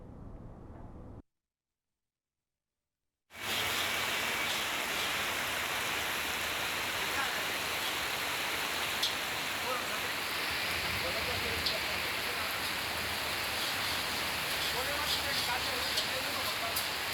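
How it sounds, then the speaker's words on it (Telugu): Heavy rain falling across Hyderabad, a steady dense broadband hiss that starts after a brief silent gap and continues loud and unbroken to the end. "నగరంలో చాలా ప్రాంతాల్లో భారీ వర్షాలు కురుస్తున్నాయి"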